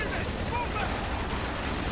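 Continuous gunfire and explosions from the video game Call of Duty: Black Ops roar densely through the whole stretch, loud and unbroken, with a player's voice mixed into the din.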